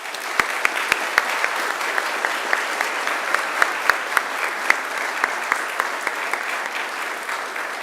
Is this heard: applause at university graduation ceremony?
yes